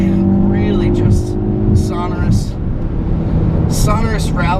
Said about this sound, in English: sonorous rally style burble from up front and in back